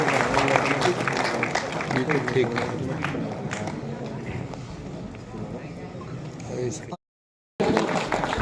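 An audience at a kavi sammelan poetry gathering in Daltonganj claps in a rhythmic patter for several seconds. Voices carry over the clapping, which thins out before a short silence and then comes back.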